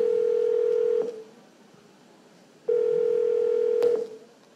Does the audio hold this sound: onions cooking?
no